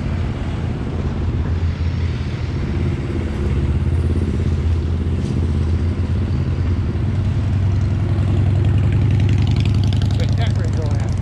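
A motorcycle engine runs steadily at a bike week gathering, a mid-pitched rumble that swells slightly toward the end, with crowd chatter mixed in.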